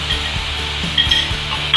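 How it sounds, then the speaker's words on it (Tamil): Broccoli and egg stir-fried with turmeric in a pan, a loud close sizzle under repeated scraping and clinking of a metal spatula against the pan, without talk. "வதக்கி விடணும்."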